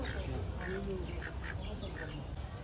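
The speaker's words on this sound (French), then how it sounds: "Et là, c'est le canard de Pékin." Peking ducks quack in short repeated calls, fairly faint and close together, over a quiet background with a voice speaking, at the Kinshasa zoo.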